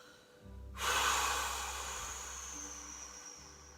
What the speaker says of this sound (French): Et je viens souffler par la bouche en ramenant la tête en face.